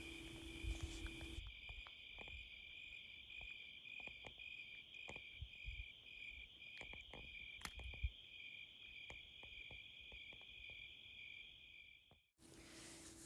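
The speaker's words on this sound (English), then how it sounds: "all that you really hear are the crickets and the birds and the wildlife and the breeze" Crickets chirp in a steady, dense high trill on a full-moon night at a cabin near a gold mine, with faint scattered clicks and rustles and a brief breezy gust at the start and end.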